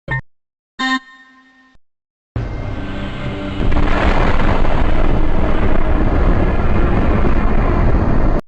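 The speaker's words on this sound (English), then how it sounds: "This explosion is too powerful to have created our universe." A huge explosion in the space video game Astronomica, where a collapsed universe has become a black hole, erupts after two short tones and a pause, roaring as a loud, sustained broadband rumble that swells and holds for several seconds before cutting off.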